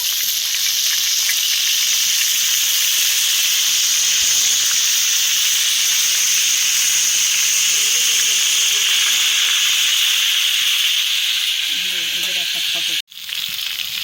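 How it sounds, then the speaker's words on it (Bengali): Chicken kathi kebab skewers fry in hot oil with a loud, steady sizzle and hiss that runs unbroken until a sudden brief clunk near the end. "দেখুন, আমি সব শিক কাবাবগুলো সেঁকে নেব।"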